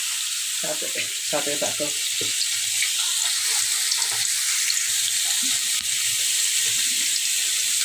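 Chopped onion and garlic sizzle steadily in hot oil in a pan, a loud continuous hiss with a few clinks of a utensil early on; someone speaks briefly over it.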